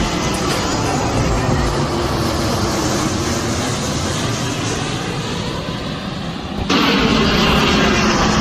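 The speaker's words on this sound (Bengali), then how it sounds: "অলরেডি দুইটি প্লেন একসাথে ল্যান্ড করে ফেলেছে।" An airplane landing at an airport, one of two planes touching down together, gives a loud, steady, broadband jet roar that fills the whole stretch and swells slightly near the end.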